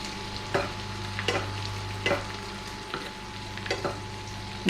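Garlic and thyme fry in butter in a pan under a low, steady sizzle, with about six light stirring scrapes at irregular intervals, close and fairly quiet, and no voices.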